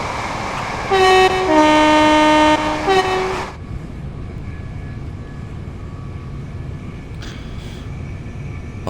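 A Class 377 electric train in Train Sim World 6 running at speed on the WCML South, with a steady motor whine and rumble under a loud two-tone horn blast in the opening seconds.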